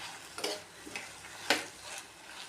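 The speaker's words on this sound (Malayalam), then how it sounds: "ഇത് നന്നായിട്ട് ഇളക്കി വഴറ്റി വേവിച്ചെടുക്കാം" Okra dusted with turmeric sautéing in a pan, a soft continuous sizzle broken by a few sharp scraping stirs of a spoon, close and fairly quiet with no voices.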